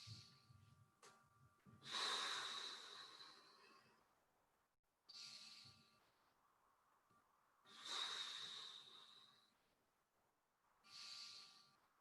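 Slow, deep breaths during a posterior chain mobility exercise, with long airy inhales and exhales in a repeating rhythm of about three or four breaths, close and fairly soft, and no talking.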